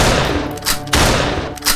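Loud gunfire from the video game Choo Choo Charles, several heavy close shots in quick succession with booming tails, alone without talk.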